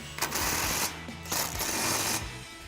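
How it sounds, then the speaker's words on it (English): An impact wrench with an 18mm socket tightens the two lower strut nuts on a 2021-2024 Ford Bronco during a lift kit install, giving three loud, close, rapid hammering bursts separated by brief pauses, with no talking. "We're gonna grab our impact and 18mm socket,"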